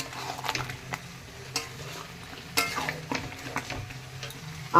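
Chicken kosha cooks in a pan with a low sizzle, broken by repeated scraping and clinking strokes of a spoon stirring against the metal, close by and with no talking.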